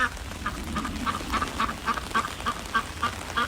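Pekin ducks on a farm, muddy and cleaning out their bills, quack in a regular run of about a dozen calls every quarter second or so over a soft outdoor background, nearby and moderately loud.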